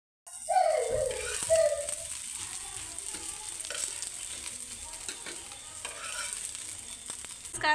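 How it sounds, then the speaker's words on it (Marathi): Onion frying in a pan with turmeric and chili powder added, a steady close sizzle with stirring scrapes and light rattles throughout. "आता कांद्यामध्ये हळद आणि चटणी टाकलेली आहे. चटणी चांगली भाजून द्यायच्या कांद्याला."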